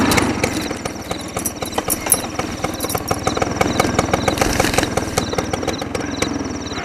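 A scooter engine runs close by with a steady, rapid putter and regular rhythmic pulses, holding a constant level throughout without any voices.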